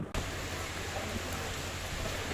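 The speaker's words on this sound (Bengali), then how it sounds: "প্রচণ্ড বৃষ্টি হচ্ছে বাইরে" Heavy rain pours outside Cox's Bazar railway station, a steady dense hiss filling the whole stretch at moderate loudness, with no talk over it.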